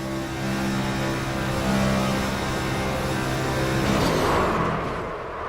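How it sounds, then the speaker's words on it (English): A race car engine held at full throttle from the in-car view during the Sno-Belt Industries 125 in Chicago, a steady loud roar with harmonic drone that never lifts, swelling slightly before the end. "I want you to listen to the engine and see if he gets off the throttle at all."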